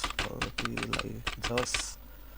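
Quick bursts of keystrokes on a computer keyboard while coding a Java project, light clicks mixed in with a person talking close by.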